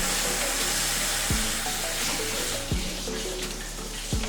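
Hands washed under a running kitchen tap while baking chocolate chip cookies: a steady, close rush of water with a few soft thumps of hands moving through the stream.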